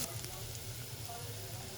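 Chopped garlic sizzles steadily in a pan, a soft continuous frying hiss with a low hum underneath, fairly quiet and without a break.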